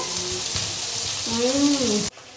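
Potatoes dropped into a hot pan with spices and turmeric, frying with a steady soft sizzle and crackle; a brief tonal rise near the end before the sizzle cuts off abruptly.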